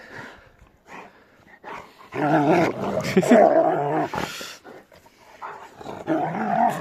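Rottweilers growl and snarl in close, rising bursts that grow louder and rougher midway, with quieter grumbles between.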